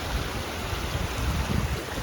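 Loud, steady roar of rushing water from a waterfall in Canada in winter, heard up close as dense continuous noise with no voices.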